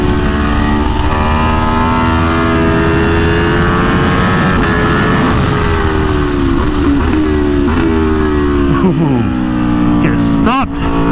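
A V4 motorcycle engine breathing through an SC Project CRT exhaust, a loud continuous drone whose pitch rises and falls through gear changes, heard close with wind noise from a ride.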